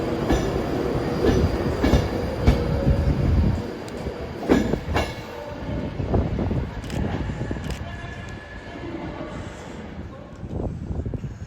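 A Class 390 Pendolino train bound for London Euston at Carlisle station, rumbling and clattering past close by with wheel squeal and rhythmic clickety-clack, loud throughout.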